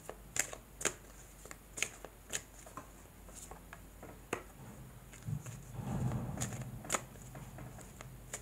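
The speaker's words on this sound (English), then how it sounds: "Gonna push the cards a bit." Tarot cards riffle and slap as they are shuffled and handled, a string of quick crisp flutters and taps at close range, ending in a denser, softer rustle as the deck is pushed about.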